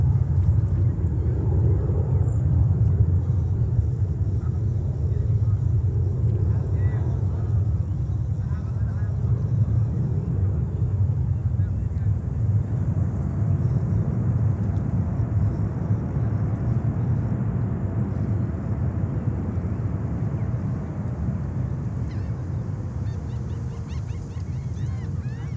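A heavy Boeing 787 jet airliner rolls out for takeoff at JFK Airport, producing a loud, sustained low roar that holds steady throughout with a broad rushing wash above it.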